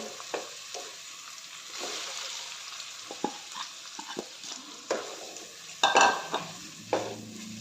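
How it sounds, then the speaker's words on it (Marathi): Okra coated in gram flour and spices sizzles in a pan as a spoon stirs it, with repeated scraping clinks against the pot over a steady frying hiss. "भेंडी यामध्ये चांगलं परतून घ्यायचं आहे"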